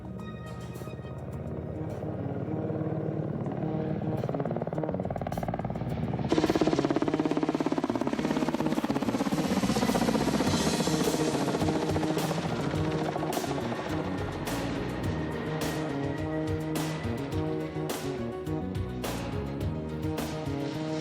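A Russian Kamov Black Shark attack helicopter in flight, a steady loud engine and rotor roar that swells and then holds on for the whole stretch with no voices.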